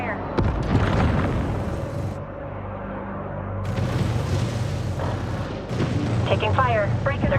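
Spaceship weapons fire in the Homeworld 3 video game: heavy booms and bursts over a continuous rumbling battle bed, with radio-style voice chatter layered throughout.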